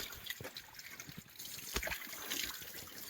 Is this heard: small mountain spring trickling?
yes